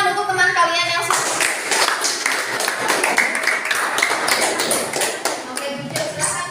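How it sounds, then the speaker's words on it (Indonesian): Classroom students applauding together, a dense burst of clapping with scattered taps, steady and fairly close, fading slightly at the end. "Tepuk tangan untuk teman kalian yang sudah."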